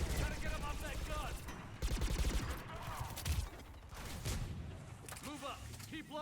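A mounted gun in Mass Effect fires in rapid bursts amid a chaotic battle, with sharp repeated shots, whooshing energy effects and shouted voices layered over the din.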